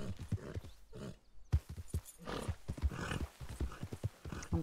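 A horse in a video game comes running when whistled for, with quick, rhythmic hoof clip-clops and a whinny, fairly close and fairly clear.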